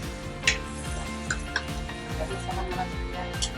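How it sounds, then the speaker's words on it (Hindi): Masala with turmeric and coriander powder frying in oil for an egg curry, giving a steady, even sizzle with occasional light clinks of a utensil against the pan, over a sustained background hum. "इसको हम तब तक पकाएंगे जब तक इसका तेल अलग ना हो जाए। हमारा मसाला अच्छे से फ्राई हो जाए।"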